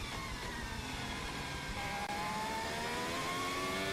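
Onboard engine of Ollie Bearman's 2025 Formula 1 car through Shanghai's turn 13 during practice: a continuous high-revving whine with rising harmonic pitch and a brief gear-change dip midway, loud and steady.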